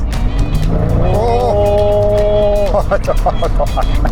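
Mercedes-Benz SL600 V12 engine revs sharply when the accelerator is pressed, the pitch rising and holding briefly before falling away into a few short blips, heard close over a steady background hum.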